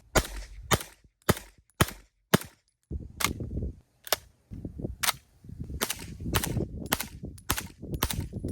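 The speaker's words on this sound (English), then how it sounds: "and a mag dump. The legendary MP5." An MP5 fires through a HuxWrx Flow 9K Ti titanium suppressor: a string of sharp, muffled single shots comes first, then a rapid burst of suppressed fire, close and alone.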